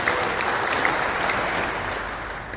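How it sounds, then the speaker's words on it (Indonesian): Steady applause from a crowd at a farmers' association gathering in Papua, dense and sustained clapping that fades slightly toward the end, with no talk over it. "Beri tepuk tangan untuk kita semua."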